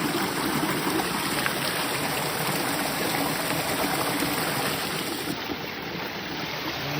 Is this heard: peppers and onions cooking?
no